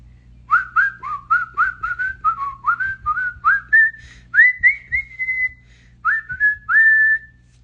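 A person whistles a bright, melodic tune of short rising and falling notes, some held longer, clear and close with no talking.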